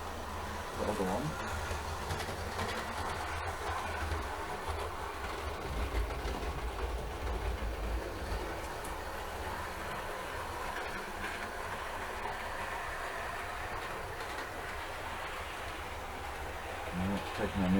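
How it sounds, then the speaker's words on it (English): Model railway trains running on a home layout, a faint continuous rumble and clatter of rolling stock in a room, low and steady throughout. "I think we got trains running again, though."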